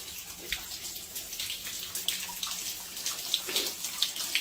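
Water runs and splashes steadily inside a house from a leak, a continuous wash of noise with scattered drips and small spatters, fairly close and alone.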